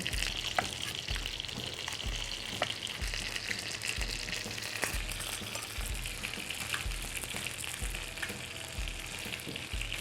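Thai chicken Massaman curry paste frying in bubbling coconut milk, a steady, dense sizzle running throughout with soft, regular low thumps from stirring, close and alone with no voices.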